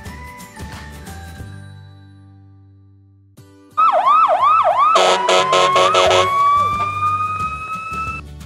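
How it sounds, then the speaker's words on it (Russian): A fire engine siren starts after a quiet low drone, cycling rapidly in loud warbling whoops and then shifting to steady high tones mixed with a clattering burst, close and prominent. "Пожарная машина."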